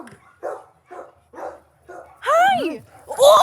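Sparky, a bull terrier, lets out a series of short barks and yips at an outdoor rescue ranch, five quick evenly spaced yaps followed by two louder whining, rising cries up close.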